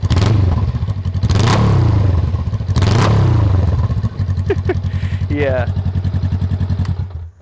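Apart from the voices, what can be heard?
Rebel motorcycle engine revving with Shorty GP exhaust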